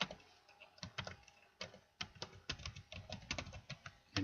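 Someone types on a computer keyboard, entering an email and password in quick, uneven bursts of close, crisp key clicks separated by short pauses.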